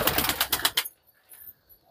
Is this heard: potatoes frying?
no